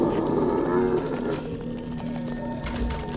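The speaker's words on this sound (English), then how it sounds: "Oh my god, we have this monster, like, tummy growl noise." A low, rumbling monster growl like a churning stomach from the Silent Hill 3 video game, heard up close and fairly loud, dense and grinding throughout with a slight swell near the end.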